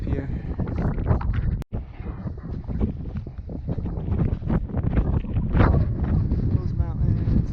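Strong gusting wind roars across the microphone high on a Colorado mountain section of the Continental Divide Trail, loud and continuous with brief buffeting bursts; no clear talk stands out over the blustering.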